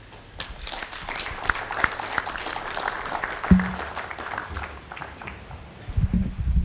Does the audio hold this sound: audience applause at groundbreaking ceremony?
yes